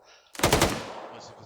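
A short burst of machine-gun fire in the Arma 3 combat game, several rapid close shots fused together and then a fading echoing tail.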